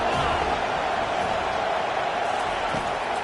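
A college football stadium crowd at Clemson versus FSU roars steadily on third down, a thick, sustained wall of noise from many voices, loud and unbroken throughout.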